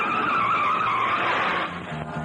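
A car in a Tamil film scene brakes to a sudden stop, its tires skidding and squealing loudly in a sustained screech that fades into a low idling rumble.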